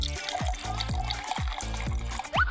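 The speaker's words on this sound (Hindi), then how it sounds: "टब में पानी भरें।" Water gushes into a tub, with rhythmic pouring bursts and trickling splashes under a faint bit of background sound.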